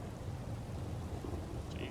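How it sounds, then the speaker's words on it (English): Steady rain and low thunder rumble from a stormy night in the WildRP Red Dead roleplay game, a dense continuous wash of downpour with deep rolling booms underneath, no voices. "It's raining like a son of a bitch."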